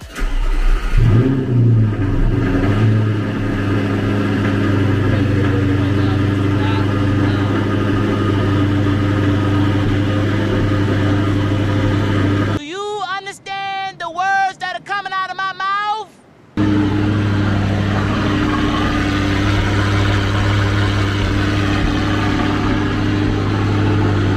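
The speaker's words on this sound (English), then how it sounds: "there's a cold start on a straight pipe Audi R8" A straight-piped Audi R8 supercar fires up cold with a loud, raw roar and sustained high idle, then its engine drone cuts out briefly before returning to a steady, booming idle.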